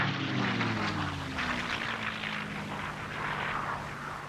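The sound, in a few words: low-flying US torpedo bomber aircraft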